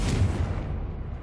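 A Confringo blast spell cast in Hogwarts Legacy makes one deep, heavy boom that hits close and loud, then rumbles and fades out over about a second.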